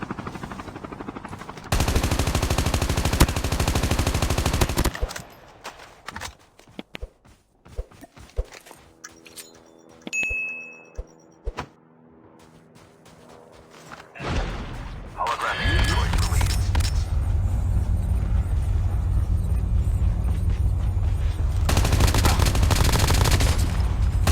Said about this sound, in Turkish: Soldan bana sıkan bir arkadaş var